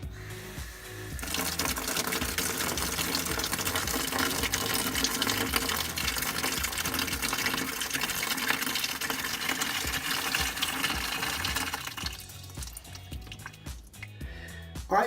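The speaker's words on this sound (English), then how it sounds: "So watch the hot water now." Hot water from a bucket pours into a bathroom sink drain in a steady, gushing stream for most of the time, then tapers off to lighter trickles and drips near the end.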